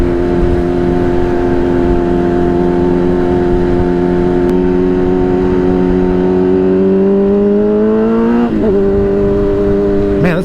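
A Kawasaki ZX10R motorcycle fitted with a custom exhaust idles with a steady, throaty drone close by, then the revs climb briefly near the end before settling back.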